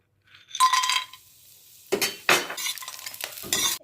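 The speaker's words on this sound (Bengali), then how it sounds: "প্রথমে কড়াইতে সর্ষের তেল দিয়ে দিলাম ও বড়িগুলো ভেজে নেবো।" Lentil and poppy seed bori frying in mustard oil in a wok, with bursts of sizzling and stirring scrapes interspersed with light clinks of utensil against the pan, close and fairly loud, with quiet pauses between.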